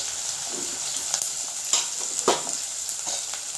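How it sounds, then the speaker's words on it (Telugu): Cut potato pieces dropped into a frying vegetable curry, setting off a loud, steady sizzle with scattered crackles and a few stirring clatters, no voices. "ఇప్పుడు కోసి పెట్టుకున్న ఆలుగడ్డ పీసులు కూడా వేసేద్దాం"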